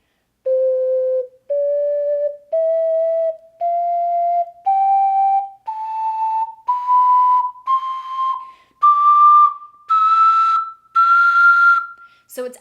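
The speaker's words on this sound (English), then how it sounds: "So this is their Zelda 12-hole tenor ocarina in ceramic." A ceramic 12-hole tenor ocarina plays a slow rising scale of clear, pure tones, each note held about a second with short breaths between, alone and close up.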